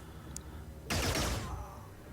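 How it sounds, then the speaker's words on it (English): A brief burst of gunfire rattles out in the video game Xenonauts, a short dense volley of rapid shots at moderate level after a moment of quiet. "Okay, I heard gunfire."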